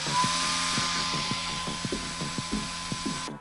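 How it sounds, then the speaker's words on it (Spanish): Two brushless motors wired to a single ESC, one spinning and one stalled, give a steady high whine over rhythmic low throbbing pulses that fade out at the end. "ahora ven que este motor sí gira y el otro no"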